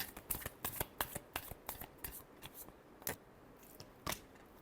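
Tarot cards shuffled by hand, giving a rapid series of crisp, close riffling flicks that thin out into a few sharper snaps near the end.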